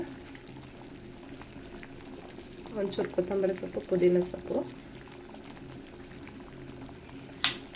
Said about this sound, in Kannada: ನೋಡಿ ಚೆನ್ನಾಗಿ ಕುದೀತಾ ಇದೆ